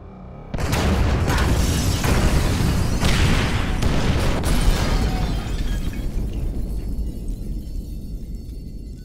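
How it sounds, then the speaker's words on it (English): Incendiary charges detonate in Grand Theft Auto V: a sudden heavy boom with a sharp crack, then a dense roar of explosive bursts that holds loud and slowly thins into a rumbling tail. "Detonate the incendiaries, Frank."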